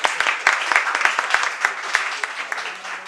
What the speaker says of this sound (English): Come on, clapping, guys.